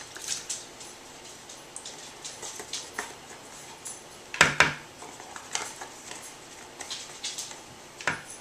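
A scraper works very thick whipping cream out of a bowl, giving quiet scrapes and light clinks against the bowl, with one louder knock midway and no talking.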